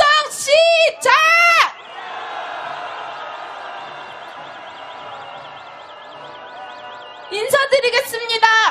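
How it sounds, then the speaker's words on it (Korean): Street rally crowd at a candlelight march in Seoul breaks into loud shouting and cheering, framed by chanting voices at the start and end, with a sustained distant roar between and a wavering whistle or siren-like tone above it. "함성 시작"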